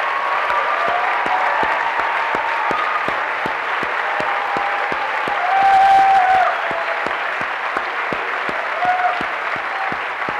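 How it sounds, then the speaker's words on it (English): Audience applause for school administrators and support staff at a school event, steady dense clapping throughout that swells briefly midway, with a few faint voices and a whistle in the crowd. "Let's give them a round of applause, please, for all their hard work."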